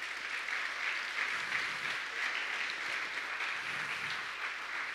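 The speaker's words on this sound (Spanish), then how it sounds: "dale un fuerte aplauso al Señor" A church congregation claps together in a steady, moderately quiet wash of applause with no voices standing out.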